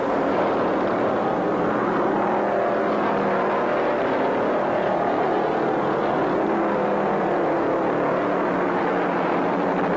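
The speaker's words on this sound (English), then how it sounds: "Davy Pearson slams his foot into the carburetor and unleashes that big Mercury down the back chute to pass Petty as they enter turn 3" Big Mercury stock car engine roaring at full throttle down the back straight at the 1973 World 600 race, a steady, loud, dense motor drone with broad rumble and no voices.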